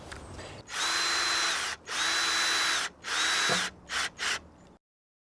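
A cordless power drill drives screws through pegs into wooden raised bed end boards, running in three long whirring bursts followed by two short ones, loud and close, with no talk.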